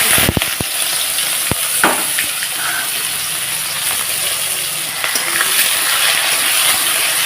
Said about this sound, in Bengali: এখন দিয়ে দেবো এই যে কুচনো পেঁয়াজ